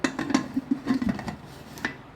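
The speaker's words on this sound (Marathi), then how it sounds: "कुकरचं झाकण लावून मी कुकर ठेवले" A pressure cooker lid is fitted and locked in a kitchen, producing a quick run of close metallic clanks and scrapes, then a final knock and a quiet tail.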